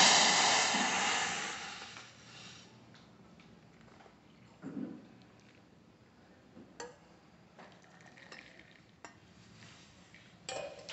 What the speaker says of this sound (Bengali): এবার ছেঁকে নেব, যেরকম নর্মাল চা আমরা ছাঁকি